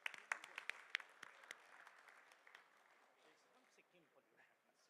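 Sparse applause from a small audience at a pollution control board session during a memento felicitation: a few sharp claps at first, then thinning and fading to a faint patter.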